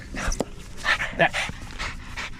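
A dog in a hot van in summer pants rapidly in quick breathy bursts close by, with a few small whimpers mixed in.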